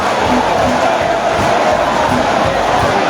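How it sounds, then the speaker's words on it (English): Liberia supporters cheer and chant loudly at a football match against Sierra Leone, a dense, continuous roar of many voices with brief shouts rising above the din at a stadium. "The cheering squad of Liberia is too active here"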